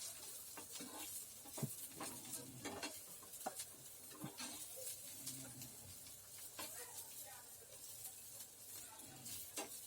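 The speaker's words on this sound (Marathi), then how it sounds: "तर इथे मस्त कांदा भाजत आलाय" Onion roasts in a pan, sizzling softly throughout with a spoon stirring and occasional scraping taps, quiet and close.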